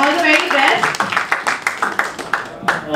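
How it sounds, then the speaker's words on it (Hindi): A crowd at a wildlife conservation event claps for a participant, with strong, fairly rhythmic claps rising under a speaking voice that fades after the first second. "इनके लिए बात दोबारा से जोरदार तालियां बजाएं"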